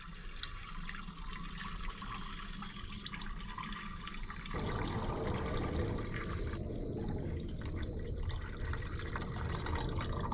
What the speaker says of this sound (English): I'm gonna put a gallon of water in here and see what happens